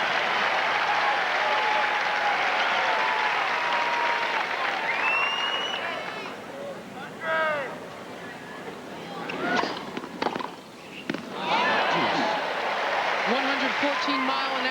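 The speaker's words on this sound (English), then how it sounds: "Crowd getting into it with him." Tennis crowd at the 1994 US Open applauding and cheering in a big stadium, a loud sustained roar of clapping that dips briefly mid-way, with a commentator's voice and whistles rising over it.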